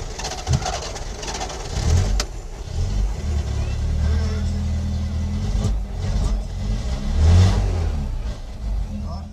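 An old car's 1.2-litre, 46 hp eight-valve engine runs with a steady low rumble that swells briefly, while people talk nearby over it.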